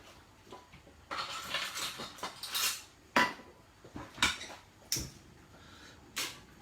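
A small frying pan is set down on a kitchen stove, giving several sharp metallic clanks and knocks among softer handling rustles, close and fairly quiet.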